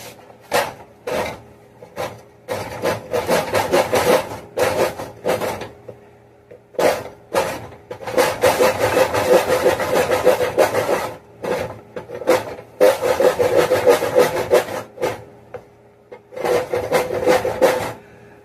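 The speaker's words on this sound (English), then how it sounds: "I'm just going to use it to scrape the wood." A Swiss Army knife saw scrapes wood to make tinder, heard as repeated close rasping strokes in bursts of varying length, with brief pauses between them and no talk.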